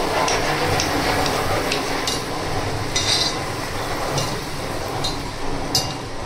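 Butter sizzles steadily on a hot tawa griddle over a low gas flame for a quesadilla, a continuous close crackling hiss with occasional faint metallic taps, and no talking.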